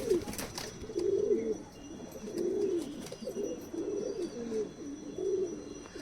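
Giribaz pigeons coo in a loft, soft repeated throaty calls that overlap in a steady chorus, with a faint chirp or two near the start.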